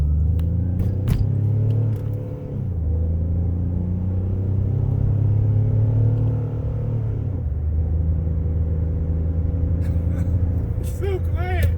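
A 2013 Ford Taurus engine idles with its cold air intake removed, a steady low rumble that holds throughout with a brief shift midway.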